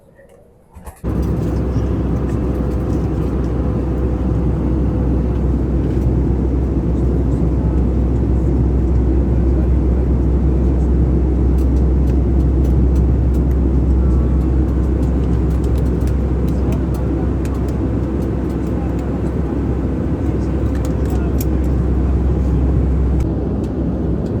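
Steady, loud low-pitched engine roar inside a jet aircraft cabin on a flight from Greece landing at Bilbao, Spain, continuous throughout with a faint murmur of voices beneath.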